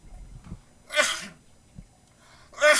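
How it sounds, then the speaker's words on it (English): A person sneezes in a dusty studio during a live wrestling talk show, one sharp loud burst after a quiet moment, followed by a second sneeze-like burst near the end. "And sometimes you sneeze, you know? It happens."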